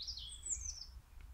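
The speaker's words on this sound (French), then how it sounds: "des oiseaux, plein d'oiseaux" A bird in a natural setting gives a single bright, high chirping call lasting about a second, fairly near and clear over a quiet low rumble of background ambience, with no voices.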